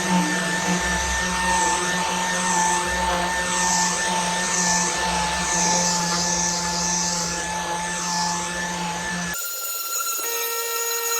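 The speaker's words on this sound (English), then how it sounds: "the reason why I'm using a 3-inch sand disc is because I originally bought it for this" A 3-inch sanding disc scuffs the painted body and lettering of a Range Rover before a 2K paint job, giving a loud, steady whirring grind that runs without a break for about nine seconds and then cuts off.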